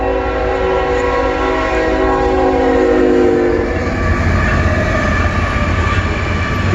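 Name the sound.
freight train horn honking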